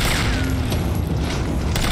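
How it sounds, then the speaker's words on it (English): A zombie exploding in Resident Evil 3 Remake: a dense, loud blast with rumbling, crashing debris that fills the whole short stretch, close and continuous. "she exploded"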